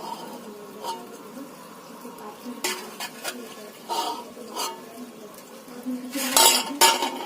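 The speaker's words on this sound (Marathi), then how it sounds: "हिला पहिले हलवून घेऊया आपण" A spoon scrapes and clinks against a clay pot while mutton is stirred over a village wood-fired stove, with repeated close scraping strokes that grow busier toward the end, and no talk.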